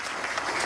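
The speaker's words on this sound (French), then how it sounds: "Je crois qu'il mérite vos applaudissements." An audience bursts into applause, a brief dense patter of clapping hands.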